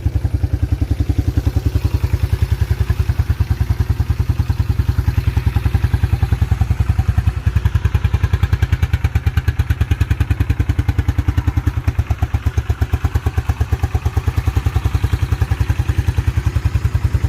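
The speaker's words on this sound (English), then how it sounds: "Really nice running ATV." A 1987 Yamaha Moto 4 YFM-350ER ATV engine idles steadily close by, a fast, even thumping putter that holds constant throughout with no talk.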